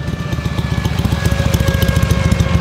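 A Buell XB12S Lightning motorcycle with its American Harley V-twin engine idling close by, a loud, lumpy, uneven thumping pulse that keeps a steady loping rhythm throughout, with no voices.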